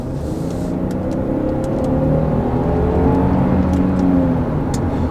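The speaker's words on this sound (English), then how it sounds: "Here we are about to enter the freeway, and I'm actually going to put it into sport mode here." A Kia Telluride SX Prestige X-Pro SUV accelerating in sport mode onto a freeway, heard from inside the cabin as a steady rising engine drone under road and wind noise, with no talking.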